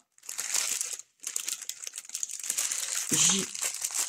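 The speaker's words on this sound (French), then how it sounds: "je voulais absolument vous faire le déballage de ce que j'avais reçu" Plastic packaging crinkled and rustled close up while unboxing a Picmondoo diamond painting kit, continuous crackling with a brief pause, and a voice briefly over it.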